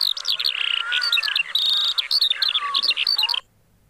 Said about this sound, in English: And the skylark sings with me.